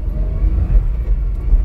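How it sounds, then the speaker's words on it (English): A 1994 Daihatsu Hijet Climber mini truck pulls away in first gear, its small engine giving a steady low rumble close by that rises slightly as it gains speed, with no talking. "I'm gonna do a little acceleration"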